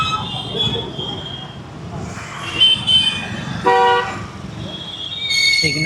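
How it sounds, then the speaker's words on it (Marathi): Car horns toot in busy city traffic, several short honks and a longer blast at intervals over steady road rumble and engine noise. "बघा मित्रांनो ट्रॅफिक कसं आहे"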